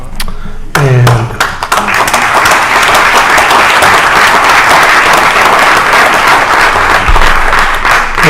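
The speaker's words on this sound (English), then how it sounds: "that is applause for your three decades of service, not applause that you're leaving" Audience applause fills a city council meeting in Orlando, a dense, steady roar of clapping from a crowd that holds loud for several seconds after a few thuds at the start.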